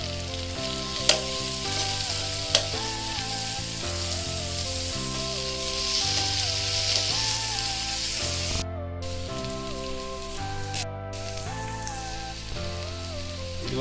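Crushed ginger, garlic and fennel paste sizzling steadily in hot oil in a pan while cooking a squid dish, a loud continuous fry with faint background music and occasional stirring clicks.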